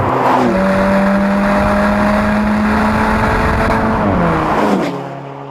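Alfa Romeo 4C sports car engine droning loud and steady from inside or close by, pitch holding then shifting as it changes gear near the end before easing off.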